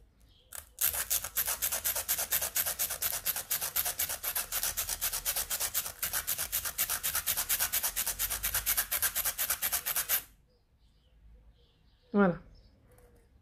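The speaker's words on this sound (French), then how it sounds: "je vais limer par en dessous, droit" A nail file rasps back and forth under a fingernail in a fast, even series of close scratchy strokes lasting about ten seconds, then stops. A short voice sound follows.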